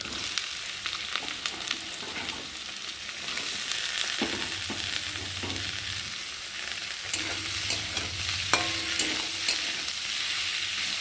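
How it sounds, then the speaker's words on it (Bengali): Sliced potatoes and green chillies frying in oil with onions, a continuous close sizzle punctuated by intermittent scraping clicks of stirring, with no voices. "আলুগুলো তেলের সাথে লাল লাল করে ভেজে নেব"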